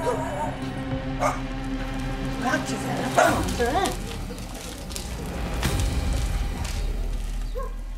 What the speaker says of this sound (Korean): 지나가는 할머니 할아버지들한테 이제 막 짖는 거예요